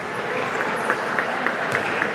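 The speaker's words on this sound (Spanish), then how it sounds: "Los aplausos de su gente." Home supporters at an Argentine futsal match between Jorge Newbery and Platense applaud as the team walks onto the court. The steady crowd clapping fills the indoor hall, with scattered sharper claps standing out.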